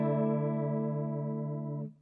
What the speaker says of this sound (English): So you can hear it's a much quicker kind of chorus.